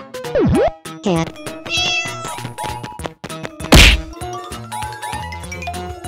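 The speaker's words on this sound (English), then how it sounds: "Cat." A cat meows in a game challenge scene, with clear falling and rising meow calls standing out among whacks, chimes and musical effects, heard loud and close.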